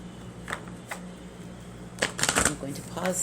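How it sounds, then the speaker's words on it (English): Tarot cards being shuffled by hand in a few quick riffling bursts, the loudest run near the end, soft and close against a quiet room. "I will shuffle for a moment here with you"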